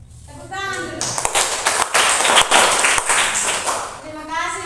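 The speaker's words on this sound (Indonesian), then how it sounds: "Tepuk tangan dulu." Students in a classroom clap their hands after a group presentation, a dense burst of applause that swells for several seconds, with children's voices talking over and around it.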